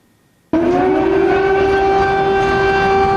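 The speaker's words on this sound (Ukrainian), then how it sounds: "Не лякає вас сирена от зараз?" A loud, steady wailing air raid siren in Ukraine starts abruptly after a moment of near silence and holds a sustained, piercing tone; no talking.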